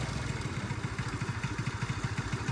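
Honda Dio AF-34 scooter engine idles very low and close, a quick, uneven putter of regular pulses with a slight clatter.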